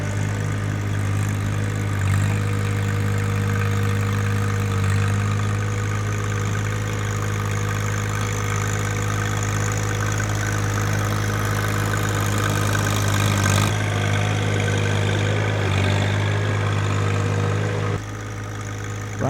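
A John Deere 1025R compact tractor engine runs at high altitude in the Rocky Mountains, a steady, loud, low-pitched hum with a strong droning tone and small shifts in load, heard alone without voices.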